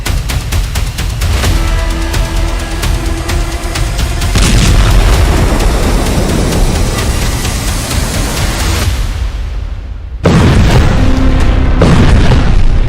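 War footage from Beirut with bomb and rocket explosions: loud, continuous rumbling booms and blasts filling the whole stretch, a dense roar with an abrupt cut near the end before more heavy detonation noise, no speech.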